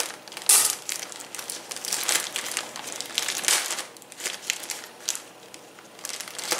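Close, crinkly crackling and tearing as a heavily taped package is pulled and ripped open, coming in irregular bursts of plastic and tape noise with no talking.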